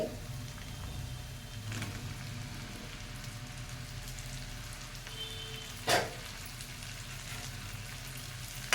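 Okra pieces frying in a pan give a steady, soft sizzle and crackle, with a couple of sharper clatters from a utensil or added pieces along the way.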